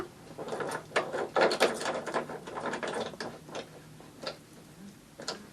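A boat's speed log paddle wheel housing is hand-tightened, giving a run of close ratcheting clicks and mechanical ticks that cluster early and then thin to a few isolated clicks, with no talk.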